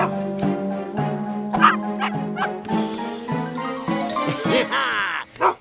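Cartoon dogs bark in a children's animated show, with a string of yips, woofs and whimpers in close, lively succession and a light jingle here and there.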